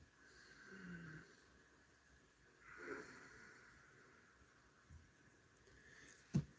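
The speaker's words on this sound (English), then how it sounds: "You got that ujjayi breath, making that ha, very gentle snore." Gentle ujjayi breathing during a meditation and breathwork session, a soft, hushed snore-like breath drawn in and out, quiet and close, with one louder breath swelling near the middle and a sharp brief noise near the end.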